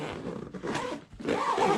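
The double zipper on the main compartment of a Timbuk2 Never Check expandable backpack is pulled open in two quick rasping strokes, close and fairly loud, with no speech.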